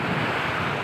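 Sea surf rolls steadily onto the shore, a loud, continuous wash of waves with heavy wind noise buffeting the microphone, no voices.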